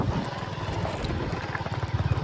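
A motorcycle engine putters along at a steady low rumble with a rhythmic throb, fairly close, no voices.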